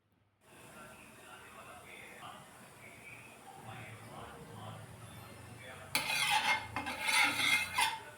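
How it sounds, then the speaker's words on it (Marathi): Batter being stirred in a bowl with a pinch of baking soda for a fasting-day recipe, a soft, low scraping that gives way to louder, brighter clattering and swishing over the last couple of seconds, with quiet speech-like sound in the background. "अगदी थोडासा चिमुडभर खाण्याचा सोडा पुन्हा एकदा चांगलं मिक्स केलं"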